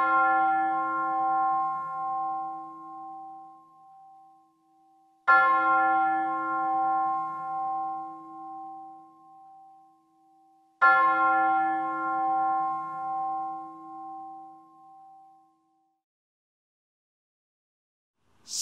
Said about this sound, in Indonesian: lonceng panggilan telah bertalu.